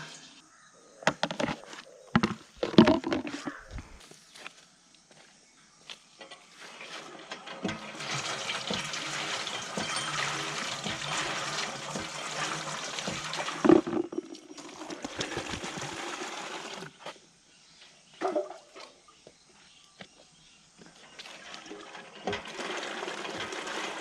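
Water runs from a village borewell in the countryside, a gushing rush that swells and stops in stretches, broken by knocks and clatters of handling between flows.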